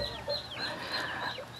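Chickens clucking and calling steadily at close range while feeding on sardine fish mixed into their feed, with no talk over them.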